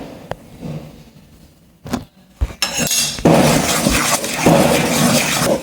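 Adhirasam sweet dough being mixed by hand in a bowl, with soft clinks and scrapes of metal utensils against the vessel and a steady wet rustling through the second half, no talking.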